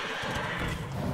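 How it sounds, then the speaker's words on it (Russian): A horse neighs in the Hearthstone card game, a short bright whinny over a dense, busy game soundscape lasting about a second. "Конь."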